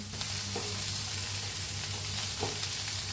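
Garlic cloves and grated coconut roast in oil in a pan for katvada, giving a steady close sizzle with occasional soft scrapes as the mix is stirred, and no voice over it.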